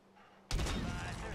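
A single loud sniper rifle shot from a MORS rifle in the Warzone video game bursts in sharply after a quiet moment, then rolls on as a long, heavy echoing boom.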